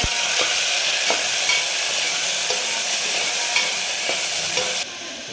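Bottle gourd and garlic sautéing in a pan, with a steady bright sizzle and periodic stirring scrapes throughout, cutting off abruptly near the end.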